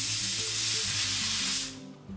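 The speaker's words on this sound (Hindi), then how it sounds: "कुकर में अभी 6 विसल आ गई हैं" A pressure cooker on a gas stove whistles, cooking chole: a loud, steady hiss of steam rushing out under pressure, cutting off abruptly near the end and leaving a faint low rumble.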